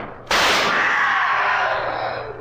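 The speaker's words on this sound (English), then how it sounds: "Quick, fire your pistol." A single loud pistol shot rings out as a sound effect in a vintage radio drama, a sharp crack with a long decaying echo.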